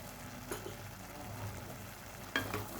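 Carrot halwa with sugar being stirred in a pan: a steady soft sizzle with scraping spoon strokes, two sharper stirs standing out, no voices.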